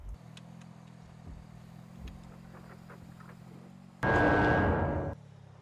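A car engine in a horror video game cranks to life with a sudden loud, rough roar that holds for about a second before dropping back to a low idle rumble beneath quiet background ambience.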